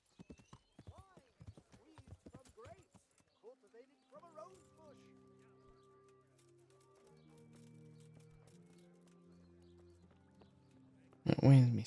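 Horse hooves clip-clop at a walk in the video game Kingdom Come: Deliverance. The crisp, evenly spaced steps come first, followed by soft voiced tones and a louder burst at the end.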